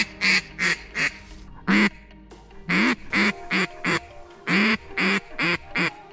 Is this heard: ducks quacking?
yes